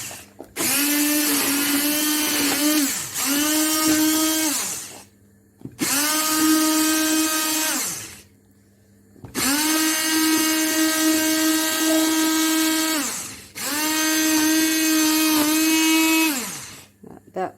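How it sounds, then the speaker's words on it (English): A hand blender whirs loudly in four bursts separated by short pauses while blending dhal, the motor pitch holding steady and dropping each time it stops. "I personally like to blend mine to make it a smooth, soupy, you know, consistency."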